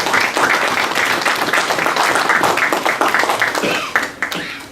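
A church congregation breaks into loud, dense applause that holds steady for several seconds and then thins out as the clapping tapers off.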